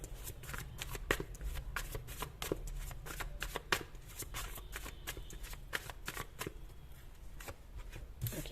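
Tarot cards shuffled and drawn, a steady close riffling and flicking of cards with sharp snaps scattered throughout, fairly quiet and continuous with no voice over it.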